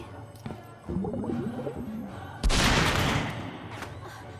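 Gunfire in a horror film, a scattered volley of loud shots with a strong blast midway that decays into rumble, mixed with other soundtrack noise.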